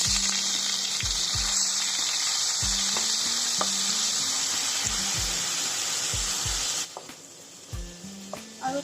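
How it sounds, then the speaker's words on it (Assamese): Chopped onion and whole cumin seeds sizzle steadily in hot oil in a pan, a loud continuous fry that drops quieter near the end, with faint low thumps beneath. "আৰু পিঁয়াজখিনি মই 10 ছেকেণ্ড সময় ফ্ৰাই কৰিম"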